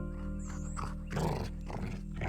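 A game dog growls and snarls in short rough bursts, fairly close, over a steady musical drone, with no talk.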